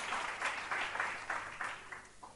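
A church congregation at a prayer and fasting service claps at a moderate distance. The clapping comes in a rhythmic series of bursts that are evenly spaced and soften toward the end.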